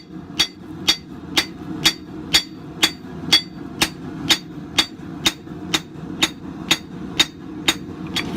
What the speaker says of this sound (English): We're going to be hammering in the bevels on the inside of it